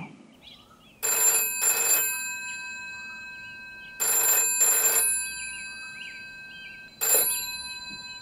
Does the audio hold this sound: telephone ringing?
yes